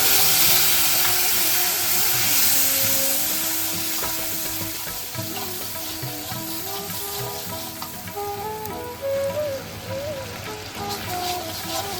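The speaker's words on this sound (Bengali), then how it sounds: "এদিকে আদাটা আমাদের কষানো হয়ে গেছে" Ginger paste frying in hot oil with cardamom and cloves for a Bengali prawn malai curry, a steady close sizzle with stirring clatter, loud at first and easing slightly, with no talking.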